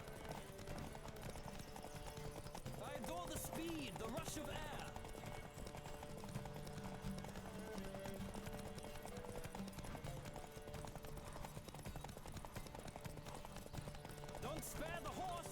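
Rapid hoof clip-clop of a horse galloping in a race in The Witcher 3 video game, continuous and steady under music and game sound, with a voice speaking over it.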